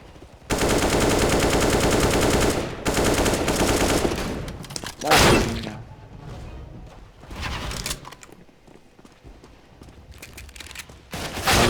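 Rapid bursts of Tec-9 pistol fire in the game CS:GO, loud dense volleys at the start easing into scattered sporadic shots and quieter gaps.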